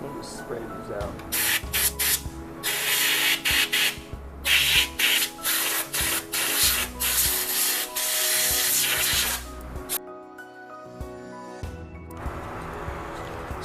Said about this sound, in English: Let me spray these out.